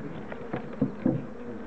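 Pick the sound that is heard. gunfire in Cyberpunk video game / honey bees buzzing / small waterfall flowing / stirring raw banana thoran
honey bees buzzing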